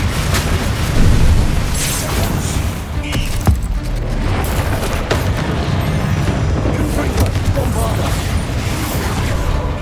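A Bombarda spell explosion in Hogwarts Legacy lands as a loud, dense blast, followed by a continuous rumble of booming combat noise, with a voice speaking over it.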